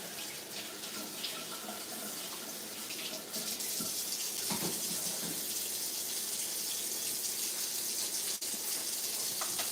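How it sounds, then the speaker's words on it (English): A kitchen faucet runs steadily into the sink while cherry tomatoes are rinsed, a continuous close gushing hiss that grows slightly louder partway through. "A little tiny cherry tomatoes. I always like to rinse them again."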